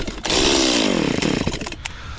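A chainsaw cuts firewood in the Tofalaria forest, a loud close engine roar whose pitch sags under load through the cut and then eases off, heard alone.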